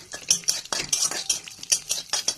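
A utensil scrapes and clinks against a pan while dried red chillies and cumin seeds are stirred in hot mustard oil, giving rapid, close, rhythmic metallic strokes over a faint sizzle.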